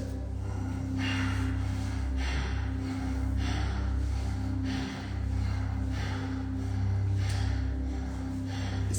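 Forceful Bhastrika yoga breathing, even belly-pumping inhales and exhales repeating in a steady rhythm of roughly one breath cycle per second, close and loud, with a constant low hum underneath and no talk.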